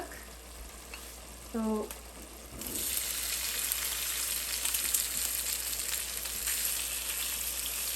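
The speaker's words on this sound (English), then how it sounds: "I will be frying this patra which I microwaved, and then I will add it to the palak" Microwaved patra leaves fry in melted ghee in a pan, a quiet steady sizzle that swells after a brief stir and keeps going, with one short spoken word over it.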